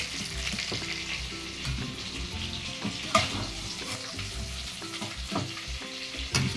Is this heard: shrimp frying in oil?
yes